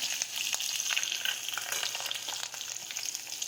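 Cumin seeds and green chillies frying in hot oil in a kadai, a dense continuous crackling sizzle with quick pops, close and fairly loud, steady throughout with no voices.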